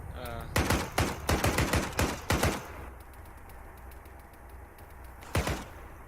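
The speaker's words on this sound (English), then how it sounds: "There's a heavy machine gun right next to the, right on top of us" A heavy machine gun in the shooter Task Force 121 hammers out several rapid, loud bursts close by, then falls quiet before one more short burst, with faint game ambience between.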